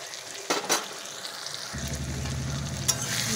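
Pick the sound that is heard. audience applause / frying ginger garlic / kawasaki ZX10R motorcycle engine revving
frying ginger garlic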